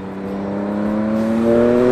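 Triumph 1050 Speed RS motorcycle engine accelerating hard, a steady close-up drone whose pitch climbs and grows louder over two seconds, with no talking.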